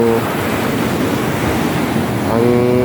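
Rough sea churns and crashes close by during typhoon flooding, a loud, continuous roar of surf and wind buffeting the microphone.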